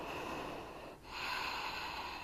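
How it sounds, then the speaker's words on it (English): Slow breathing during a yoga pose, a soft airy exhale and inhale with a brief pause between, faint and close against quiet room tone. "2 more breaths here."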